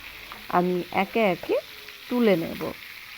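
Pieces of pointed gourd (potol) fry in hot oil with a soft, constant sizzle in the background while a person speaks close by in short phrases over it.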